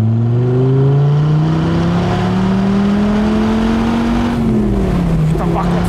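A Dodge Viper RT/10 sports car engine revs loud and close, a continuous deep rumbling drone whose pitch climbs steadily, then dips and rises again near the end.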